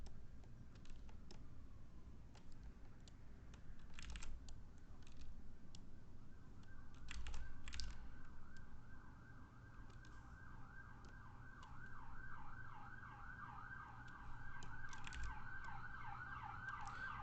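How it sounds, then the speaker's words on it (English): Sirens pass on a nearby main road, a faint wailing rising and falling tone that grows clearer in the second half, with distant traffic rumble and scattered clicks underneath. "I live next to a huge main road, and I always hear a ton of the sirens that run by."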